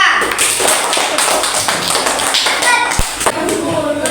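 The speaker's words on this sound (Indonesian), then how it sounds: "Tepuk tangan untuk kelompok 3" Fourth-grade pupils in a classroom clap for group 3, a dense, close patter of small hands with a few sharper taps and a thump, mixed with children's voices.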